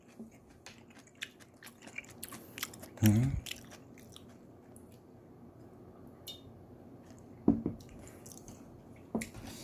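Someone eating a simple home-cooked meal with lots of green onions on an island, with a few close chewing and biting bursts over quiet outdoor ambience.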